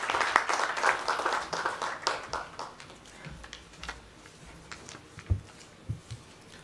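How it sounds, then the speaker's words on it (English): A symposium audience applauds to welcome a speaker, a burst of clapping that starts strong and thins out into scattered claps and taps before fading. "with a huge round of applause, we would like to request Ramakant sir"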